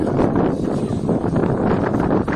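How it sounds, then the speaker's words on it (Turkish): Strong wind buffets the microphone in a continuous, loud roar with gusty swells throughout, with no clear voices. "Çok rüzgar var."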